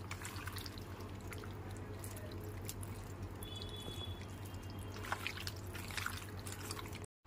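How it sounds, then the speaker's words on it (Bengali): Meat is worked by hand with marinade, giving quiet wet squelching and dripping sounds that continue steadily at close range over a low steady hum, with no one speaking. "এবার মাংসটাকে খুব ভালো করে ম্যারিনেট করে নেব। হাত দিয়ে একটু ঘষে ঘষে এরকমভাবে"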